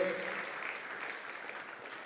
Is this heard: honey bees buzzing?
no